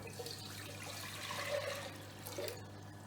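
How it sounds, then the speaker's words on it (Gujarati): Water is poured over four cups of sugar to make syrup for gulab jamun, a brief, soft, close trickle and splash. "એમાં સમાઈને એટલું પાણી નાખું છું"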